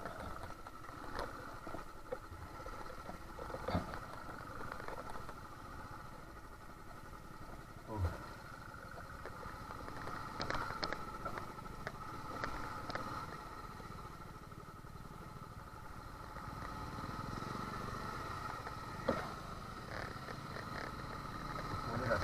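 A Royal Enfield Thunderbird 350X motorcycle engine drones steadily during a ride, with wind-like rush and occasional clatters throughout.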